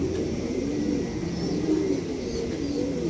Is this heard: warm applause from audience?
no